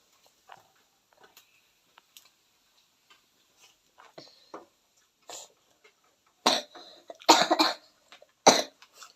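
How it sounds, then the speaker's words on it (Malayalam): A person coughs repeatedly, soft, scattered coughs at first, then a few louder, harsher bursts close by. "എൻ്റെ കുറച്ച് ചുമയൊക്കെ ഉണ്ട് കേട്ടോ"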